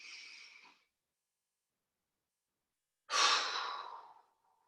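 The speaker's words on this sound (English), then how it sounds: "breathing into the neck and the shoulders" Two slow, deep breaths during a qigong exercise, one fading exhale then a silent pause before a louder, close, airy breath that tapers off gradually.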